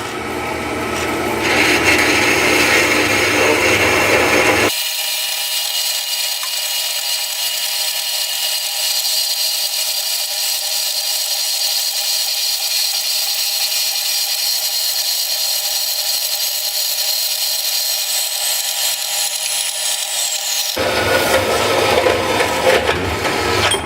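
A motorcycle fork spacer tube is cut to a marked line during a KYB fork swap on a Honda Africa Twin. A loud, steady rasping cutting noise runs unbroken for the whole stretch, with no talking.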